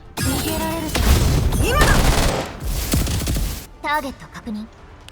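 Gunfire from the Vector in the video game Girls' Frontline 2 rattles in loud, dense bursts during a boss fight, mixed with booming impacts, game effects and voices talking over the action.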